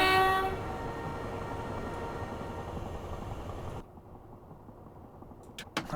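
A train horn in the Train Sim Classic game blares loudly at the start over a rumbling train, then cuts off, leaving the quieter running noise of the train.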